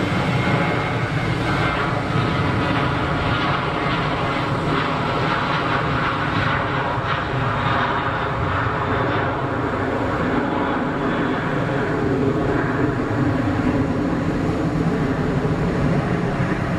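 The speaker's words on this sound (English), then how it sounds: "KLM Boeing on the run." A KLM Boeing jet on the runway at Geneva Airport gives a loud, continuous engine roar that stays steady and broadband throughout, with no voices over it.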